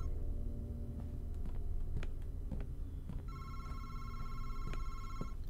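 A telephone rings in the video game Madison, a steady electronic trill that begins partway through and holds over a low background hum with scattered faint knocks, close and clear with no talk.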